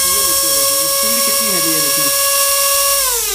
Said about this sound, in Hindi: ये देखते हैं मिनी ग्राइंडर होने वाला है, ये देखते हैं जैसे कि आवाज़ से ही आपको पता चलेगा कितनी हैवी में होने वाली है।